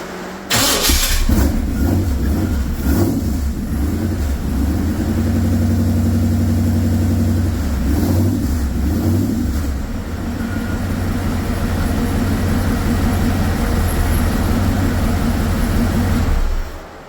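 A Ford Anglia street rod's engine cranks on a newly fitted starter motor, catches, and settles into a loud, close, steady idle that runs on for many seconds before cutting off.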